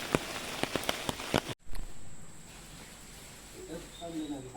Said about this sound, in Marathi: आणि पाऊस पण पडता हो भरपूर हे बघा